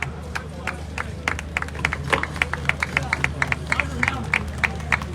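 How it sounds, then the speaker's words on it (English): Crowd applause at the Oguaa Fetu Afahye festival in Ghana honouring the Vice President, a steady run of sharp claps over a low background hum, with crowd noise throughout. "Let's give him another round of applause."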